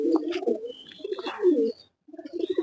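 Pigeons in a large loft coo close by in repeated throaty bursts, with a short pause before the cooing resumes.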